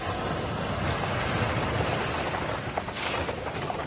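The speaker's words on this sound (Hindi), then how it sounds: "भवन के झरोके से सागर की उछाल खाती लहरें दिखाई देती है" Sea waves surge and break against the shore, a steady broadband wash with windy rumble throughout, loud and continuous with no talk.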